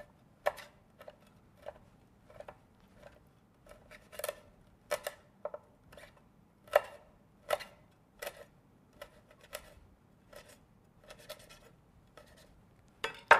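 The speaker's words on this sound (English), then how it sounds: "I'm going to cut up some fresh thyme in the salad too." A knife chops fresh thyme on a cutting board in steady, light taps that come close and crisp, some in quick pairs, with no talking.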